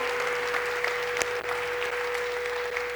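Steady applause from a church congregation during an Apostle's sermon on the Holy Spirit, sustained and even throughout, with a faint tonal hum running underneath.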